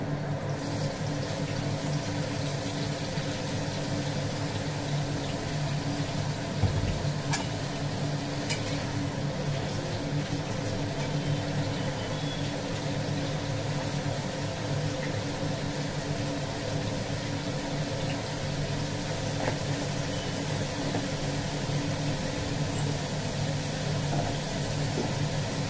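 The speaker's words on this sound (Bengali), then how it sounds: "সবজিগুলিকে ভাজতে দিই।" Vegetables fry in a pan with a steady, even sizzle that hisses continuously for a long stretch, with a brief clatter partway through and no talking.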